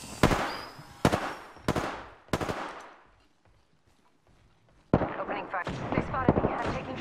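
Gunfire striking the player in Apex Legends: a few loud, sharp shots spaced apart, a quiet gap, then a dense burst of rapid impacts and crackling hits up close.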